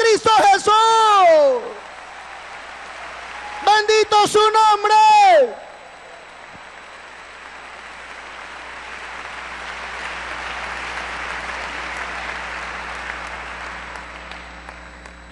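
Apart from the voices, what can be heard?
audience applause at a church testimony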